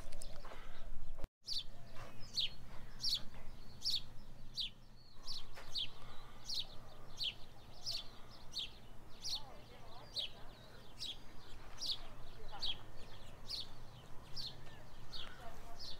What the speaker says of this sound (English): There are a lot of birds out.